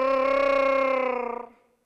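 A person voices a Wookiee roar as a Star Wars imitation, one sustained, harmonically rich, warbling growl that holds steady, then wavers and trails off after about a second and a half.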